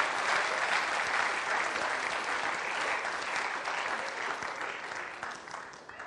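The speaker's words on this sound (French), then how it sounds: "Acclamons très fort le Seigneur." A church congregation applauding loudly, dense continuous clapping that holds steady for several seconds and then begins to thin out toward the end.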